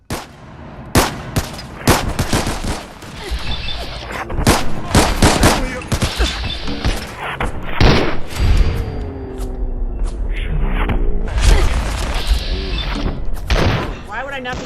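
Fallout 4 combat: rapid bursts of gunfire and a heavy machine gun rattle in loud, dense volleys with thuds, close and nearly continuous, while a player talks over the action.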